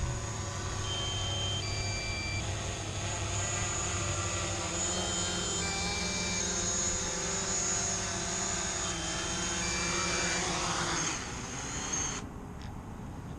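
A small camera drone hovers and comes in to land with a steady high-pitched rotor whine. Its pitch shifts as it descends, and the whine cuts off near the end, with no talking.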